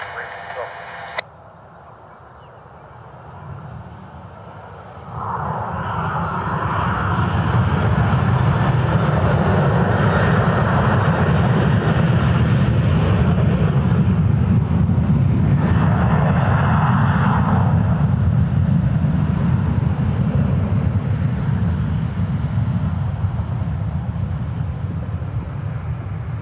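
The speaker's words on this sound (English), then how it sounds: "Delta 737 on their way to Atlanta. I think it's flight 1350. And they're still on the roll." A Delta Boeing 737 jet rumbles loudly through its takeoff roll at Cleveland Hopkins, a broad steady roar swelling after a few seconds of quieter background and holding strong to the end, with faint radio chatter early on.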